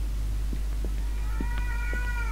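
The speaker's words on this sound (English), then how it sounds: "Oh, I think there was another cat in that room." A cat meows in the horror video game ERIE: a few short, close meows, the last a longer, clearly pitched call, over a steady low hum, with no voices.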